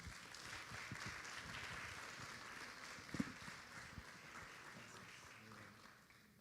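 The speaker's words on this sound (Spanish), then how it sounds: "a quien saludamos y recibimos con un fuerte aplauso" Audience applause welcoming a speaker at an education conference on artificial intelligence and higher education, steady clapping from a large crowd throughout, slowly fading toward the end.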